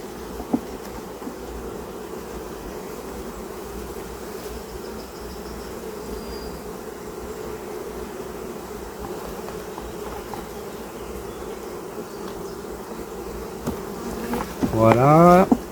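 A constant, dense buzz of many honey bees around their hive fills the clip, steady and close, with a brief louder burst near the end.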